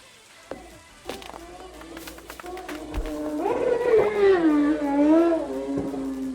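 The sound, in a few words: motorcycle ripping down the road outside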